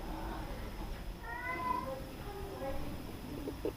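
An indoor cat meows softly from across the room, giving a few drawn-out, wavering calls over steady background hiss.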